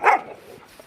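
A single short dog bark bursts out loud at the start, then trails off into quieter low background noise.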